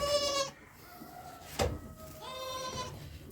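Two wavering, nasal bleats from a young goat kid in a farm animal yard. A short thump falls in the quiet gap between the calls.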